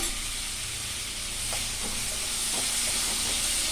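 Garlic and ginger sizzle steadily in a hot pan with a constant bright hiss, while a few soft scraping stirs clink faintly underneath.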